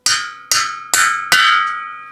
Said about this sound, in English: You just kind of split the difference and you whack them down.